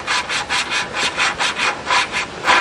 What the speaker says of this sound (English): So that's how you lap and seat a valve with full compression.